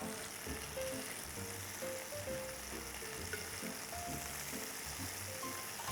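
Scallops searing in a hot pan for a truffle scallop pasta give a steady, close, unbroken sizzle and crackle with no talking.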